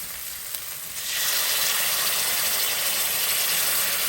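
Stir-fried rice noodles hiss in a hot pan right after tamarind water goes in, a loud steady sizzle that surges up after a second of quieter cooking, with no talk.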